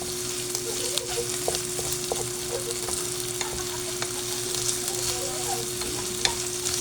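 Onions and corned beef sauté in a pan, a steady even sizzle with soft scattered stirring taps and a faint hum underneath, with no talk.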